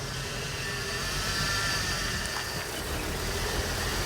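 Car engine with a newly fitted American-made exhaust idling and pulling off as the clutch is dropped, a steady loud mid-range rumble holding close and even without a break.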